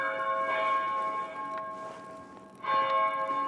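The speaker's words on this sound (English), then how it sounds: "Some bells ringing." Church bells ring in the medieval video game Pentiment, with two clear strikes about two seconds apart, each leaving a long, shimmering ring that hangs in the air.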